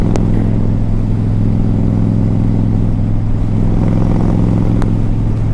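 A 2010 Honda Stateline motorcycle with aftermarket pipes idles steadily, a loud, close, deep engine rumble that stays even throughout without revving.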